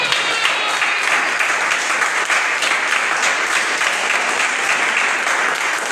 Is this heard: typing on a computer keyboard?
no